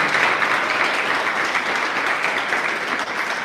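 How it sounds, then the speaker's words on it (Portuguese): Church congregation gives a sustained round of applause, a dense, steady wash of clapping from many hands that holds at an even level throughout. "dá uma salva de palmas"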